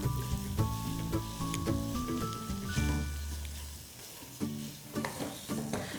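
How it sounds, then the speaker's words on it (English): Khoya roasting in a non-stick pan on low flame, with a faint sizzle under repeated scraping stirs of a spoon, soft and close, while tonal background music plays. "Keep stirring so that the khoya doesn't stick to the bottom of the pan"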